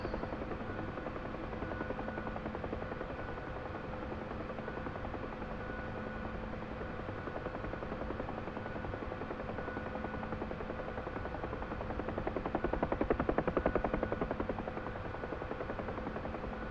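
A Huey gunship helicopter in level flight, settling to about 60 knots, gives a steady, close, continuous drone of rotor thump and turbine whine that holds evenly throughout and swells slightly louder near the end, with no voices.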